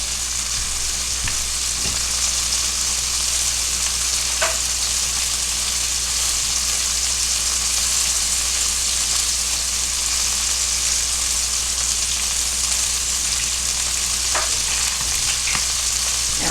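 Chicken sizzles and fries steadily in a hot pan, a continuous loud crackle with occasional faint pops, no voices.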